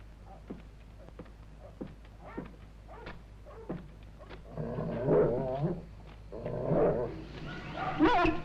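A dog barks, yips and whimpers in distress, at first as a run of sharp, fairly distant yelps, then louder, drawn-out whining and crying toward the end, with no voices over it.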